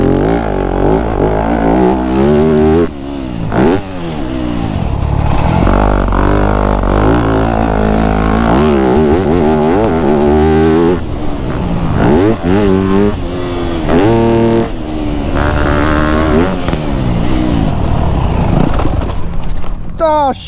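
A Yamaha YZ250F dirt bike engine revs hard while riding, its pitch climbing and dropping through repeated throttle bursts and gear changes, loud and close, with a rider talking over it at times.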